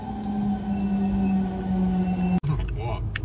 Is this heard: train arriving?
yes